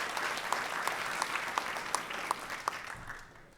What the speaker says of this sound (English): can we give a round of applause to all the folks